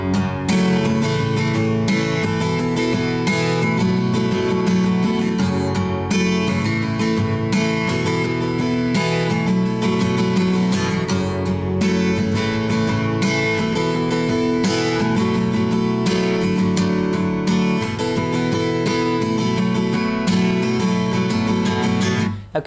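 A capoed guitar plays a song intro, a steady, loud strummed chord pattern with rhythmic attacks running continuously close up, with no voices.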